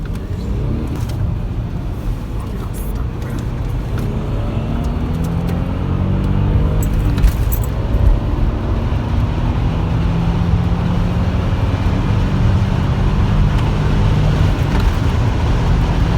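A VW Touareg 3.0 V6 drives along a road, with a steady engine rumble and road noise that rise slightly as the driver changes gear. No speech is heard.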